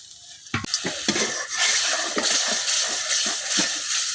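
Spice paste with plenty of green chillies being sautéed in a pan, a loud sizzle rising after a sharp clank, with repeated rhythmic spatula scrapes and knocks against the metal.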